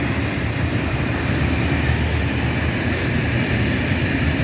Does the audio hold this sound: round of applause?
no